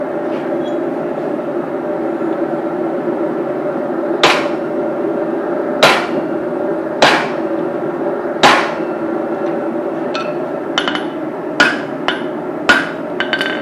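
Hot steel is hammered on a block while forging a small ball peen hammer, about ten sharp ringing blows landing at uneven intervals over a constant droning hum in the workshop.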